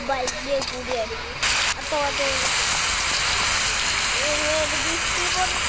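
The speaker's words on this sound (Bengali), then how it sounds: "বৃষ্টি পড়ছে।" Steady rain falls throughout as a dense, continuous hiss, with a voice talking over it near the start and again later.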